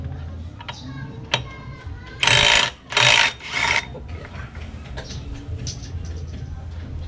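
Impact wrench fitted with a 22 mm socket loosening a pulley bolt, firing three loud rattling bursts in quick succession amid background shop noise, with people talking around it.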